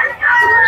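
A single short, loud squawking cluck of a chicken, close to the microphone, at a pet market in Bocaue.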